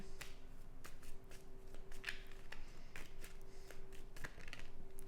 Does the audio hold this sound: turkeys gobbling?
no